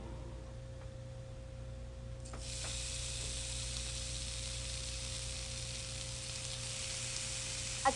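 A tofu palak paratha sizzles in oil on a hot pan, a steady, close frying hiss that swells louder partway through over a faint background hum.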